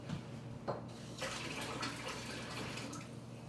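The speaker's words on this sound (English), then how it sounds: "wash your hands because you just handled raw meat" Tap water runs steadily into a kitchen sink while hands are washed after handling raw pork chops, a continuous close splashing rush with small irregular splatters.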